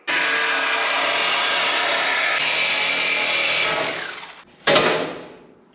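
A Sawzall reciprocating saw cuts through the body of a drag race Jeep, a loud, steady buzzing rasp running for about four seconds, then a short pause and a second brief burst of cutting.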